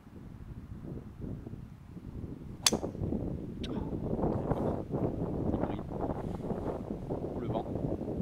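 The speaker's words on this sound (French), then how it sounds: "Le vent." Steady wind buffets the microphone on the Golf d'Ozoir golf course in a low, rumbling roar, with a sharp click partway through and a voice murmuring faintly underneath.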